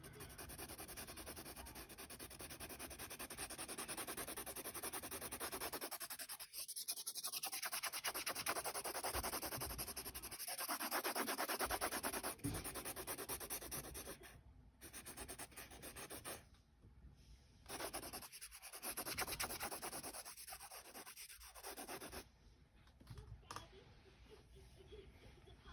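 A pencil or blending tool rubs back and forth across paper, smoothing a drawn cloudy background. The scratchy rubbing stays close and continuous, with a few brief pauses.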